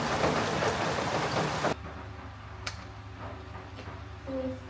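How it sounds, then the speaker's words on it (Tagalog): Dense, steady heavy rain hisses loudly for a couple of seconds, then cuts to a quieter background with faint drips and a brief tone near the end. "Grabe, tuloy-tuloy pa rin yung pag-ulan"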